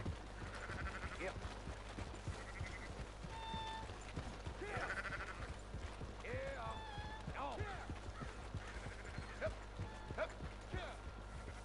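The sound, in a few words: sheep bleating in Red Dead Redemption 2 video game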